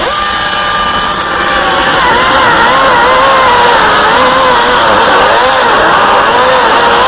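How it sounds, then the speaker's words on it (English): A battery-operated chainsaw cuts through a large lump on a bonsai tree, whining loudly and steadily up close, its pitch wavering as the blade bites into the wood, with no talking. "these are battery operated chainsaws, much safer and as powerful as the petrol chainsaw"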